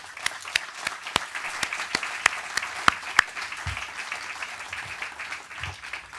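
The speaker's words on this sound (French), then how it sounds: "on peut l'applaudir très chaleureusement" Warm audience applause for an honoured guest at a tribute gathering, scattered sharp individual claps standing out over a softer background of clapping, fairly close and sustained.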